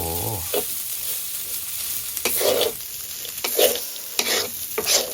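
Fresh chilies stir-fried in a hot pan give a steady sizzle, broken by repeated scraping strokes of a spatula against the metal, close and moderately loud, with no voices.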